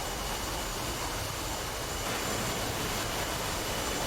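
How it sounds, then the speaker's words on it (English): Steady broadband roar of jet engines as two aircraft configure for a carrier landing in the DCS World flight simulator, a continuous even rush with no talk. "the 2 aircraft will turn towards the show line and dirty up, dropping their landing gear and a resting hook to enter full carrier landing"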